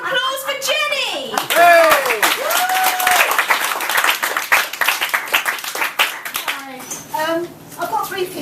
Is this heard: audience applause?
yes